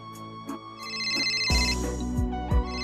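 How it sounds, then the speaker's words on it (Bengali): A phone ringtone plays alone, a melodic tone repeating for about a second and a half before a louder, fuller pattern takes over with steady rhythmic pulses. "দাঁড়া, প্রিয়ার ফোন আসছে।"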